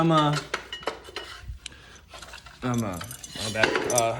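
Short pieces of 1/4 inch stainless steel rod clink and jangle together as they are handled in a shop, bright metallic chinks in two bursts. Someone talks over them.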